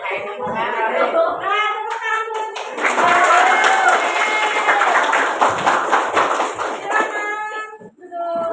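A seated group claps hands together in a classroom or training session, a dense burst of applause after a voice speaks, with other voices sounding through the clapping.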